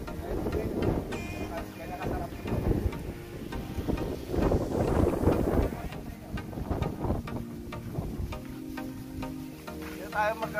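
Morning wind gusts outdoors at a resthouse in Rizal, with rushing, buffeting noise that swells and fades and some nearby voices underneath.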